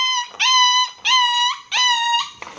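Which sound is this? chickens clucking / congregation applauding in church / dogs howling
dogs howling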